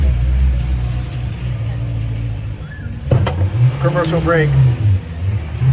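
Loud unmuffled car engine roaring past on a street, a rising rumble that swells past midway, with someone talking over it.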